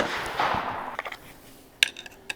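A .308 rifle firing 168-grain Hornady BTHP handloads with 42.2 grains of IMR 4064 during group shooting: a few sharp, fairly faint cracks spaced about a second apart, after a soft hiss.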